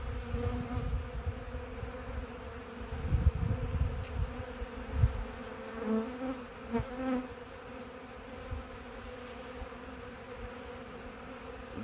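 Steady close drone of honey bees swarming an opened hive's inner cover during a March inspection, layered buzzing tones with individual bees swelling past, plus soft thumps from handling frames.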